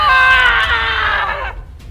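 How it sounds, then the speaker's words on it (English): A woman in a video game lets out one long, loud, sustained scream of pain lasting about a second and a half, then it fades into a faint echo. "Diana's scream echoed through the room"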